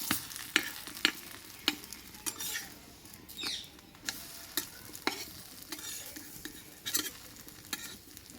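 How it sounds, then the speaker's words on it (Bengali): Parathas frying in oil in a pan, with a steady low sizzle punctuated by sharp clinks and scrapes of a spatula against the pan at irregular intervals, close and moderately loud, with no talking. "পরোটাগুলো সব ভেজে নেবো খুব অল্প সময়ের মধ্যে"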